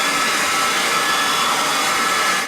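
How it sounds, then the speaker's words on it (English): Hair dryer blowing on a moustache, a loud, steady broadband whoosh running continuously and cutting off abruptly at the end. "I blot dry with the towel to remove most of the moisture, and then I blow dry the stash."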